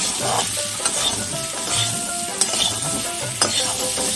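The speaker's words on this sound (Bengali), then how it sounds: "একটু লবণ হলুদ দিয়ে আলুটাকে হালকা ভেজে নেব" Potatoes fry lightly in a pan with salt and turmeric, giving a steady close sizzle broken by scrapes and stirring clinks from a utensil against the pan.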